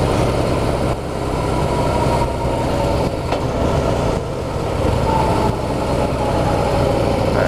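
A 2016 Harley-Davidson Heritage motorcycle being ridden, a loud, steady engine drone with rushing wind that stays constant and close throughout, with no speech.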